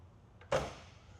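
The door of a 1966 Ford Mustang convertible swings shut with a small click and then one solid, close thump, which fades quickly into quiet.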